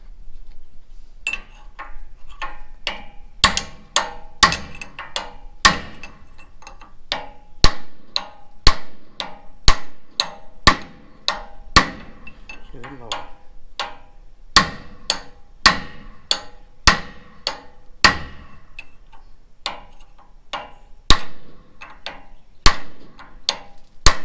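A hammer taps a chisel in, a long series of sharp metallic strikes at an uneven, fairly steady pace, some hits louder than others, with faint background sounds between blows.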